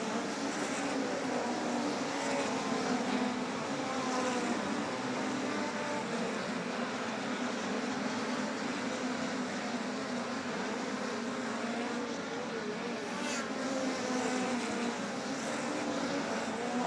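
Midget race cars at speed around Humboldt Speedway during a POWRi National/West Midget League race, a Toyota-powered car among them, their engines forming a steady, dense roar with no clear passes standing out.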